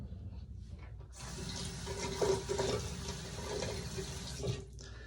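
Water runs from a tap into a container holding a thick, pasty mixture, a steady broadband splashing and pouring that begins after about a second and continues close and fairly loud, with no talking.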